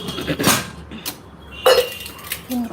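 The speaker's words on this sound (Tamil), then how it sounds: "இந்த இட்லி பாத்திரம் உள்ளே வைக்கலாம்" An idli steamer pot being put away, with a few sharp metallic clanks and clinks of cookware close by in a home kitchen.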